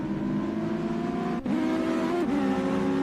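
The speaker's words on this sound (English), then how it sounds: "to have these small cars racing around this track" Small Legends race cars in a video game race roar around a track in a loud, sustained engine drone, with a sharp gear-change dip and a shift in pitch as the pack pushes on together.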